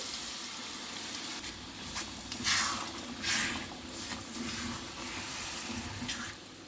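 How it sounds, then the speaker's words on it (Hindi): Rinse water from a bowl of spice and yogurt slurry splashes into a hot pan of cauliflower and pea curry, hissing and sizzling in short bursts over a steady background crackle. "बाउल को धो के हम उसका पानी भी इसमें डाल देंगे।"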